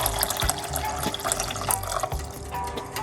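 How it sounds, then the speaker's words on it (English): Water pours into a pot for avocado seed tea, giving a splashing, trickling flow with small drips and no talking. "we're going to put 1 cup of water to make the avocado seed tea."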